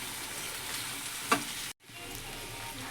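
Tempering spices are stirred in a frying pan, a soft steady sizzle with one brief scrape, a short break, then the quiet frying carries on.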